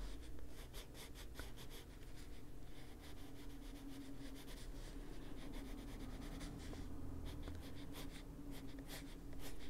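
Prisma colored pencil coloring on paper, a steady soft scratchy rubbing of the lead across the page, continuous and close with irregular strokes throughout.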